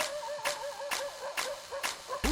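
A dog barks about five times at steady half-second intervals, sharp yips over a faint background, with a closer thump at the end.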